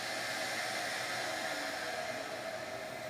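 A vacuum runs as a dense, steady broadband whoosh in a woodworking shop during a CNC plant stand build, loud and unbroken with no talk.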